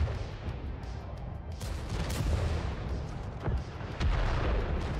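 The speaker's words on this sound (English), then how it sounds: "he gets another rocket off of the Leopard" Rocket fired at a Leopard tank in a competitive video game match, a dense run of booming blasts and rattling gunfire layered over continuous battle noise.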